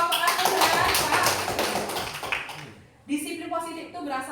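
Audience applause for a speaker during a presentation on positive discipline: about three seconds of steady, dense clapping that fades out before a person begins talking.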